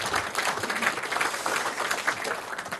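An audience claps at a firefighters' public forum, a dense and steady burst of applause from a roomful of people, sustained and fairly loud.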